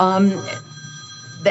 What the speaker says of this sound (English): I'm sorry, that's my phone. Ignore it.